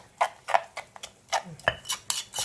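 A metal spoon clinks sharply against a pot while tasting a Thai pickled mustard greens soup, several quick, close taps in an uneven rhythm with faint stirring between them.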